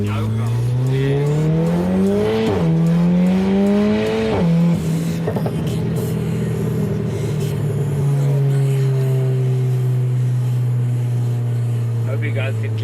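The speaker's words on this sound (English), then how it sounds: "Hope you guys can clearly hear the screamer pipe on this thing. It sounds insane." A 300+ kW Volkswagen Golf 7 R with a screamer pipe exhaust revs hard from inside the car during a ride-along, its engine note climbing and dropping through gear changes before settling into a steady loud drone, with voices talking over it.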